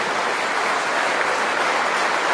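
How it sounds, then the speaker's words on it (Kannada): An audience gathered to honour a swamiji applauds in a steady, dense wash of clapping, continuous and fairly loud for the whole stretch with no voices above it. "ನಾವು ಕೈ ಮೇಲೆ ಚಪ್ಪಾಳೆ ಕಟ್ಟುವುದರ ಮೂಲಕ ಪೂಜೆ ಕೊಡುವುದರಲ್ಲಿ ನಾವು ಗೌರವವನ್ನು ಸಲ್ಲಿಸ್ತೇವೆ"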